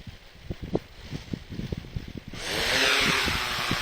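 A Yuneec Q500 drone's propellers buzz as it climbs, with a close, uneven whine that gives way to a louder, steady airy rush.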